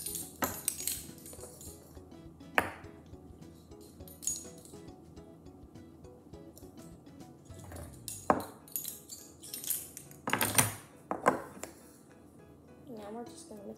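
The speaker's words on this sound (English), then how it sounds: "Now we're just gonna mix this up." Flour and salt being mixed in a bowl for mini banana muffin batter, with a spoon giving intermittent clinks and scrapes against the bowl while a person talks throughout.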